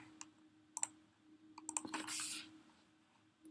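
Computer mouse clicks at a desk, a few sharp single and double clicks spaced irregularly over a faint steady hum, close and quiet, with a short rustling swipe near the middle.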